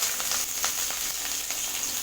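Curry leaves sizzle and crackle in hot oil, a bright continuous hiss with small popping spatters, close up and steady.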